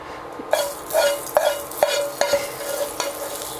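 Hot asafoetida and mustard seed tempering crackles and sizzles as it is stirred into banana stem kosambari, with repeated metallic scrapes and clinks of a spoon against the pan.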